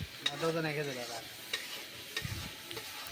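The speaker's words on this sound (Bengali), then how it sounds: "এই যে আমি ভালো মতন নাড়াচাড়া করে নিচ্ছি যাতে নিচে মশলাটা না লাগুক।" Salted spice paste for a pomfret dish fried in a pan while a spoon stirs it, close sizzling broken by irregular scraping strokes across the pan.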